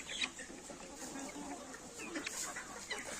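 Marans and Legbar hens and roosters cluck in a farmyard, with soft scattered clucks and short calls over low outdoor background, fairly quiet and close.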